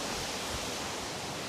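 Bridal Falls, a roadside waterfall at Camp 1, roars as a constant broadband rush of falling water, loud and close with no break.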